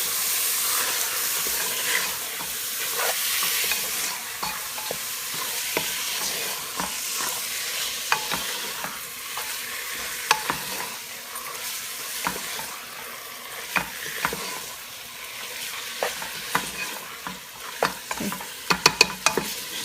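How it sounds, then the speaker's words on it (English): Beef chunks frying in a spiced curry pan, a continuous loud sizzle and hiss with repeated scraping and clacking of a spoon as the meat is stirred through, with no talking. "to this I'm going to throw in my meat. Give that a good mix."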